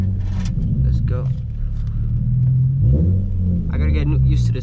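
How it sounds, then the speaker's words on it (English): A Nissan 350Z with a swapped engine drives with the windows down, its low engine rumble and revving steady and loud throughout, with brief voices and road noise mixed in. "I'll put the windows down a little bit just so you guys hear the car."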